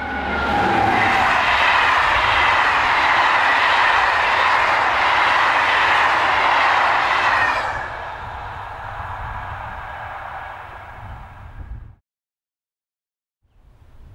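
An SNCF BB15000 electric locomotive roars past close by as a loud, broad rushing noise that eases off partway through and then cuts out abruptly, with no voices.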